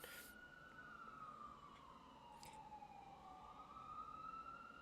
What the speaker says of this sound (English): So I'm gonna wait for the siren to pass.